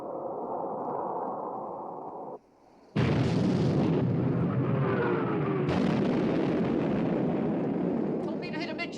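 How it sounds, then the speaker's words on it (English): A torpedo strikes a warship amidships in a 1960 naval war film: a sudden heavy blast cuts in after a brief lull, then a long roaring rumble that swells again with a second surge, all loud and continuous. "Torpedo hit amidship, sir."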